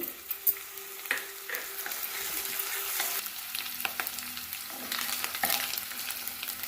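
Sliced onions frying with ginger garlic paste in a pan for paneer fried rice, a steady broadband sizzle with intermittent scrapes and clicks of stirring, close and moderately loud throughout.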